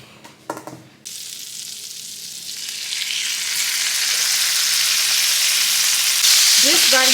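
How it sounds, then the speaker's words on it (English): Bacon and sausage drop into a hot pot and start frying, a few clattering knocks giving way to a strong, steadily building sizzle, close and loud, with faint stirring near the end. "This right here, what we call cooking bacon."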